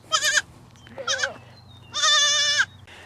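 A baby goat calls out for its mother in three loud, wavering bleats, the last one long and drawn out, close to the listener against a quiet farmyard background.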